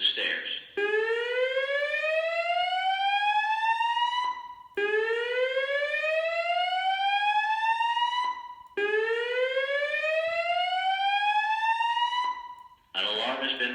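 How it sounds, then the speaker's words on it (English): A building fire alarm sounds three loud rising whoop sweeps in a steady cycle, each about four seconds long with a brief gap between, framed by short bursts of a voice at the start and end. "An alarm has been reported"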